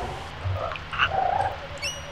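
A frog croaks in the swamp area of the video game Secret of Evermore: a short game-audio creature call with a few tonal bursts over a steady ambient background, fairly close and moderate in level.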